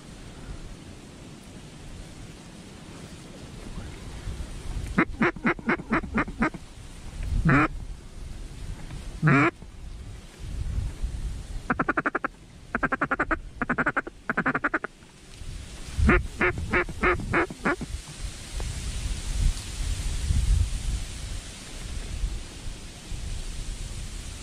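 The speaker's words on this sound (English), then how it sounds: "when you're working ducks, you're calling at them, you see them, and then they go behind you" Ducks quack in clustered bursts, some near and some farther off, with a hunter's duck call mixed among them over a steady outdoor background hiss.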